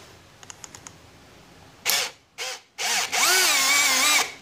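An Aneerpower 13mm cordless brushless hammer drill runs in short bursts at increased torque, two brief revs and then a longer whining run with a shifting pitch, close and loud after a few faint clicks.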